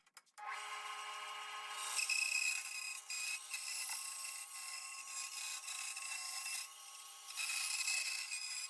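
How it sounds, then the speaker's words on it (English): Veneer-size wood sheets are cut in a workshop, giving a steady, loud high-pitched saw whine that runs unbroken for several seconds, with slight surges as the blade works through the wood. "I'm just going to cut some veneer size sheets for this."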